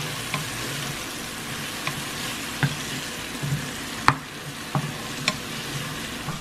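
Garlic frying in a pan for homemade pizza sauce gives a steady, close sizzle, broken by scattered sharp clicks and taps from stirring, with no voices.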